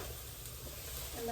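Tofu frying in a pan over medium heat, a soft, steady sizzle and hiss throughout, fairly quiet and close.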